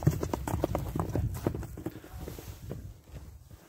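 Hooves of a ridden horse clip-clop on hard ground in a quick, steady rhythm, loud and near at first, then fading and thinning out toward the end.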